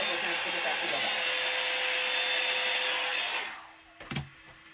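A hair dryer on its cool-shot setting blows steadily over a wig for about three seconds, then cuts off, leaving a few faint handling noises.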